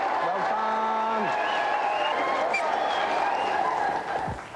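A studio audience on a game show applauds both contestants, sustained clapping heard under background music and a voice, fading slightly toward the end.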